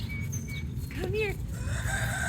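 A homestead rooster crows once with a short rising call, faint to moderate, over steady low farm background noise.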